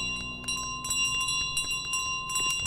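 A bell rings repeatedly in Untitled Goose Game, with several bright, short chimes spaced through the clip over a steady game background.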